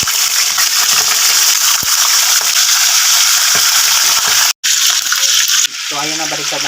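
Oil sizzling loudly and steadily in a pan, a constant crackling hiss with a brief break near the end and a faint clink afterward.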